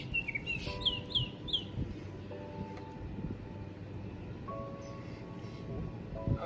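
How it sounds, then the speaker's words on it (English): A bird sings in a garden, with several quick chirping phrases early on amid faint outdoor background noise and low murmuring. "I was just listening to that bird."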